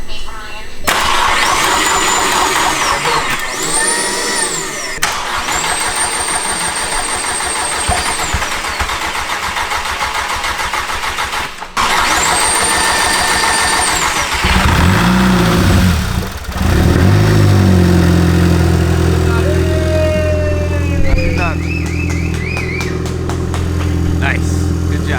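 A Volkswagen MK6 GTI engine cranks, fires and settles into a steady idle, with its secondary air pump whining loudly; the running engine is close and continuous, and people talk over it.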